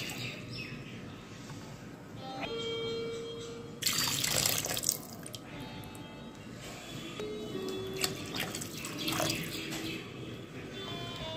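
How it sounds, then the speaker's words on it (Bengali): Water runs from a tap and splashes into a cooking pot of lentils and meat being prepared for shami kabab, a steady trickle with a louder burst midway, faint clinks and distant birds; no one speaks. "এখন গোশ এবং ডালটা সেদ্ধ না হওয়া পর্যন্ত আমি এর সাথে পর্যাপ্ত পরিমাণ পানি অ্যাড করে দেব।"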